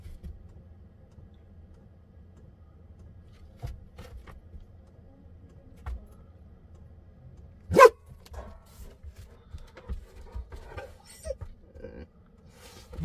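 Dogs barking outdoors around a camper van, with one sharp, fairly close bark standing out midway and fainter scattered noises over a low background rumble.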